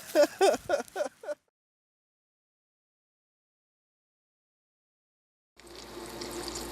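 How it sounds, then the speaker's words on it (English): Eggs, bacon and cheese frying in bacon grease produce a soft, steady sizzle that starts near the end after a brief voice and a long stretch of silence. "What you're hearing is the sound of eggs, bacon, and cheese frying in bacon grease."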